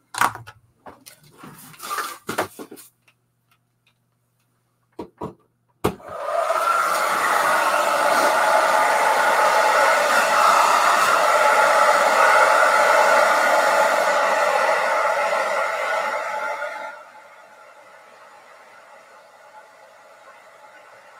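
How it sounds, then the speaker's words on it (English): A hair dryer drying a watercolor painting on paper switches on after a few soft handling knocks, then blows a loud, steady whooshing hiss for about eleven seconds before cutting off. "I got to plug in my air dryer."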